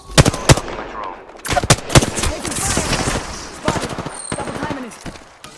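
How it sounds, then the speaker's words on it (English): Gunfire in the Apex Legends game cracks out in loud, close bursts of rapid shots with short pauses between, mixed with game voice lines and effects. "I'm taking fire."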